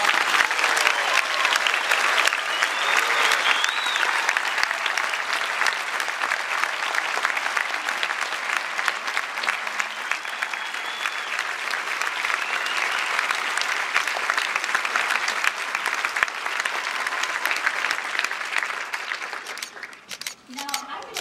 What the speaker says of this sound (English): I think all of us ought to give this sea of white coats a great big round of applause.